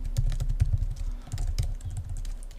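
Keystrokes on a Mac computer keyboard, a steady run of light, quick clicks typed at close range with a faint hum underneath and no voices.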